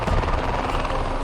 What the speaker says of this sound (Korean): 갑작스럽게 날아든 헬기.